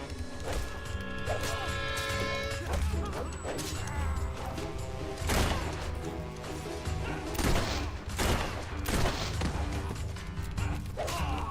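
Gunfire rings out in the Fable 3 video game, with repeated sharp bangs and crashing impacts in irregular bursts over a dense, loud battle soundscape, along with tonal game sounds and voices.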